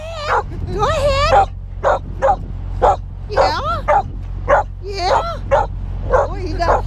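A dog barks and yips repeatedly in short, excited bursts close by, with some whimpering tones between barks over a steady low engine rumble inside a truck cab.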